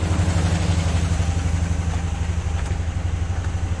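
A car engine with a knock idles close up, running as a steady low rhythmic clatter with a regular ticking pulse and no voices.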